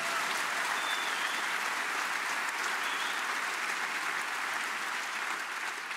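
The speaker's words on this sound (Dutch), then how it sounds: "Ook een applaus voor Tom en Marjolein." Audience applause at a Belgian stand-up comedy show, a steady dense clapping from a large crowd filling the room for the full stretch without any voices.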